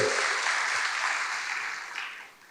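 A church congregation applauds during a sermon, a broad, even burst of clapping that holds steady and then fades out toward the end.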